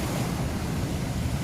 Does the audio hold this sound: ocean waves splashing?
yes